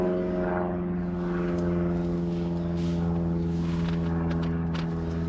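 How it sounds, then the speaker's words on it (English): A microlight aircraft passes overhead on a sunny morning beside a fishing spot, its steady propeller drone holding throughout with layered engine harmonics, fairly loud and continuous with no talking. "I'm sorry about the plane."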